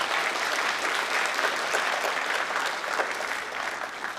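A graduation ceremony audience applauds steadily, a dense, even wash of many hands clapping that holds at full strength for about four seconds without a break.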